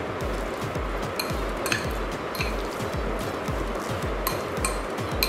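Boiled frozen peas are stirred into mashed vegetables with a steady rhythm of soft thuds and wet squelches at close range, with light clinks of a utensil against the bowl and no talking.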